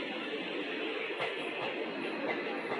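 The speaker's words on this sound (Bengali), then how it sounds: "ঢুকে গেল ভাগীরথী এক্সপ্রেস।" Bhagirathi Express entering Debagram station, a continuous even rail rumble with a faint metallic squeal, heard without speech.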